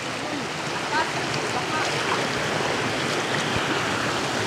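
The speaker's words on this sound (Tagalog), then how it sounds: "Ganito ka balakas yung tubig" A strong river current rushes over stones in a steady, fairly close roar of churning water, with occasional faint voices beneath it.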